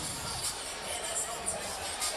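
A vociferous boxing arena crowd awaiting the main event at a Showtime card, a steady murmur of babble and scattered cheers heard at a distance.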